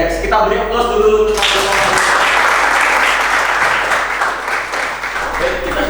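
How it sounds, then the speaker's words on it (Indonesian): An audience bursts into sustained applause during a teaching session at a health institute, following a brief voice at the start; the clapping rises sharply and stays dense and loud for several seconds. "Kita beri aplaus dulu"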